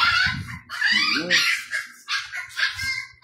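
Puppies yap and whimper in short high-pitched bursts, several yips in quick succession close by, with people talking in the background during a live card game.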